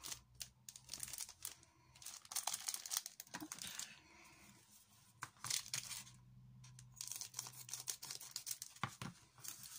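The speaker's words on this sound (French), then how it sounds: "Et je voulais en ouvrir un avec vous." A plastic packet of adhesive stickers being opened by hand, with close, quiet crinkling and tearing in irregular bursts and no voices.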